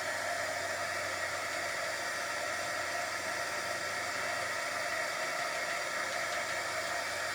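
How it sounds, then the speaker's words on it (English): Heat gun blowing on acrylic paint on a bowl: a steady, unbroken whirring hiss of motor and rushing air, close and constant throughout, with no talking. "And with the heat gun here,"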